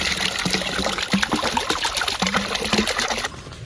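Water runs steadily from a stone village drinking fountain built in 2004 in Kadıköy village, Kiğı, Bingöl, Turkey. The splashing trickle is close and continuous, then thins out at the end.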